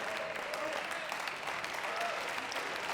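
Sustained applause from a squash crowd at the PSA World Championships after a long rally, dense and steady throughout with an excited murmur underneath.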